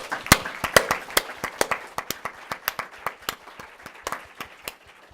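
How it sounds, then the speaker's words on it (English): Sparse applause from a small audience at a citizen science and crowdsourcing meeting, a few distinct nearby claps ringing out separately and slowly thinning. "let's give them all a round of applause"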